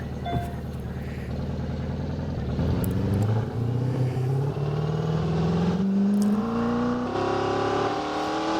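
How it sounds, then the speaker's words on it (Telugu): Road vehicles drive past, engines rising in pitch as one accelerates and grows louder, a steady close traffic drone with no talk. "ఓ ఇప్పుడు అన్ని బండ్లు పోతున్నాయి."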